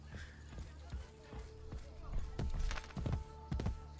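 Rhythmic hoof clops from a horse in the video game Assassin's Creed Brotherhood, moderately loud, with a steady game-like music drone underneath.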